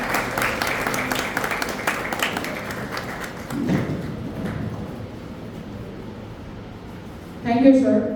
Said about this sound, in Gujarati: આપણે તાળીઓના ગડગડાટ સાથે અભિવાદન કરીશું.